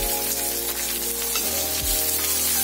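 Chopped onion goes into oil with browned garlic in a pan, giving a loud, continuous sizzle with a low steady hum beneath and faint scraping near the end.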